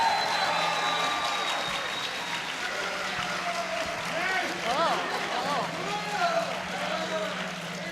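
A crowd at a convention writers panel applauds warmly, with scattered whoops and cheering voices rising over the steady clapping.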